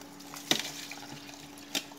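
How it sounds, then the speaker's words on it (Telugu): Frozen milk cubes are dropped into a bowl, giving two sharp, brief knocks about a second apart over a quiet room background. "మనం మిల్క్ ని అయితే ఐస్ లా చేసుకున్న వాటిని హాఫ్ లీటర్ వేసేస్తున్నాను"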